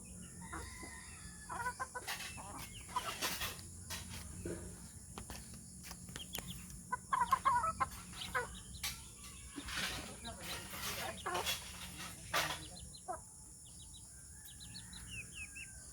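Chickens and small chicks near a hut, scattered clucking and high chirps over a steady hum, with a rooster call and people talking now and then.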